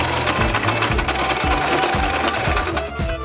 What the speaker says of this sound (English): To sew on the spots, I use a zigzag stitch on my sewing machine